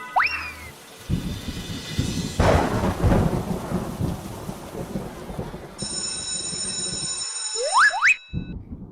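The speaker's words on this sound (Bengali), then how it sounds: "বৃষ্টি তো সকাল থেকে পড়ছে" A cartoon rainstorm: heavy rain hisses steadily while deep thunder rumbles and rolls through the middle, framed by springy whooshing comic sound effects at the start and end.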